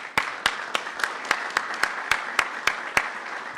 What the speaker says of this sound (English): That was a really good practice applause